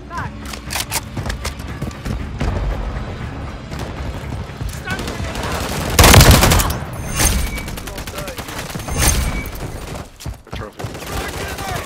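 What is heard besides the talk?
gunfire in the video game Call of Duty: Modern Warfare III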